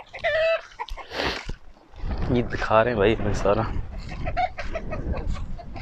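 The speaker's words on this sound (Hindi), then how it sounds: "ये मुर्गा है बड़ा" A large rooster clucks and calls nearby on a goat farm in Saudi Arabia while someone talks over it.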